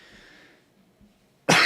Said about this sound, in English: Thank you for bearing with me and listening to my cough.